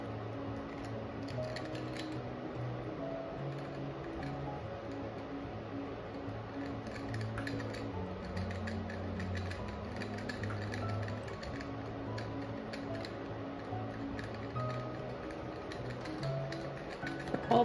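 A paintbrush taps acrylic paint onto canvas in soft, irregular dabs, a faint series of light clicks and pats over a quiet room hum.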